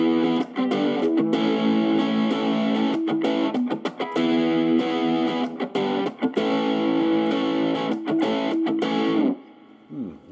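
Electric guitar played through a BOSS overdrive pedal with its turbo mode on, heavily distorted chords and riffs ringing loud and close with short stops between phrases, then cutting off near the end.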